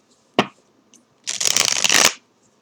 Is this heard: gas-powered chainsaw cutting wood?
no